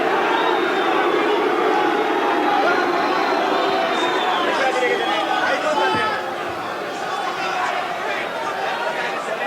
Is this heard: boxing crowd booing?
yes